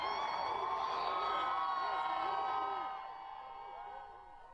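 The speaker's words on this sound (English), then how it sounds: "so hopefully you heard that cheer there" A large crowd cheers and whoops at the Georgia Bulldogs championship parade in Athens, loud and sustained with shrill voices rising and falling, then thinning out toward the end.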